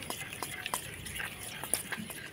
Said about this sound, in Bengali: এবার আমি ভালো করে সব কিছু মিশিয়ে নেব।